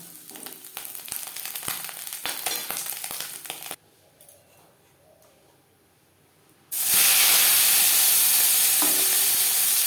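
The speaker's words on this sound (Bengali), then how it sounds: "ছোট মাছ যদি মুচমুচে করে ভাজা হয় তাহলে খাওয়ার সময় কাটা লাগবে না" Small puti fish frying crisp in hot oil in a kadai, a steady close sizzle with stirring clatter that drops to near quiet mid-way, then surges back as a loud, dense hiss when more fish hit the oil.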